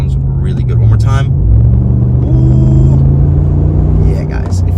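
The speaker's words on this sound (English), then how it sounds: "this truck sounds really good" A 2023 Ram truck with a 5.7 Hemi V8 and a Flowmaster Super 10 exhaust gives off a loud, close, deep rumble that swells and holds steady throughout.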